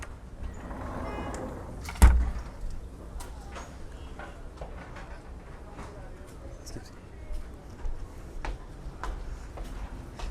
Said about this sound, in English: So if we slide this door across,